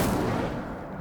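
The Incendio fire spell is cast in Hogwarts Legacy, a single broad whooshing burst that hits at once and then fades over about a second.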